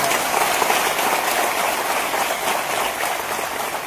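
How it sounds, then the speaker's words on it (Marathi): Dense, sustained applause from a large crowd at a rally honouring meritorious students, a loud continuous wash of clapping with no speech over it. "आज सर्वात पहिले एक मोठा टाळ्यांचा गडगडाट होऊन जाऊ देत या विद्यार्थ्यांसाठी"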